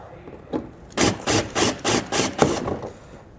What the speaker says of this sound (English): we have to drill out those 3 rivets using a 3/16 inch drill bit